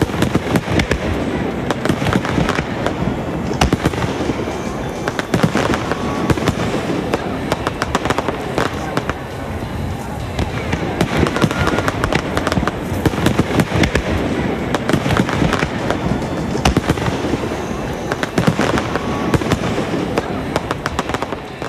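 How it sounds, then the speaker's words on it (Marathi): A huge 420 kg firework shell display bursting overhead, dense rapid crackling and popping explosions repeating throughout, loud and continuous with faint voices beneath. "या फायरवर्क शेलचं वजन थोडं नव्हे तर चक्क 420 किलोग्रॅम इतकं आहे"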